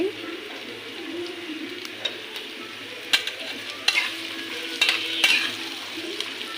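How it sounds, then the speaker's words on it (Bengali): Chickpea lentils and potatoes frying in a pan, a steady soft sizzle with a few sharper stirring clicks and scrapes scattered through, fairly quiet and close, with no voices. "একটু ভেজে নিই"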